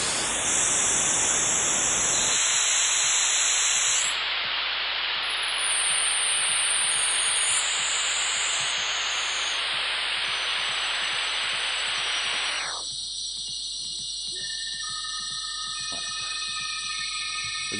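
Dense synthesized hiss that starts abruptly, with its tone filtered and reshaped as it continues, then turning thinner and more high-pitched near the end.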